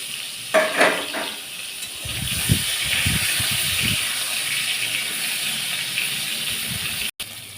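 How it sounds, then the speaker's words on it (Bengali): Pointed gourds fry in mustard oil in a wok, a steady broad sizzle with a few bursts of clattering and stirring near the start and a low bubbling patch in the middle. "কড়াইতে পটলগুলো দিয়ে দিচ্ছি"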